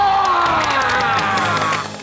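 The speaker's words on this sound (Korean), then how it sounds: "박수!" Audience applause and cheering at a Buddhist TV celebration, a dense, loud burst of clapping mixed with shouts and whoops that carries throughout and eases slightly at the end.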